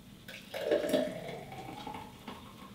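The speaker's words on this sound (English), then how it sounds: "we pour the smoothie" A thick spinach and mango smoothie is poured into a glass in a short, gurgling stream that swells, then trails off into a soft trickle.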